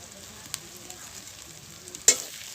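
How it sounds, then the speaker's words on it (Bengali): Onion and garlic frying in a kadai while chicken curry masala is prepared, a soft steady sizzle with light stirring scrapes and one louder clatter near the end. "এখানে আমি পেঁয়াজ আর রসুনটাকে একটু ভালোভাবে ভেজে নিয়েছি।"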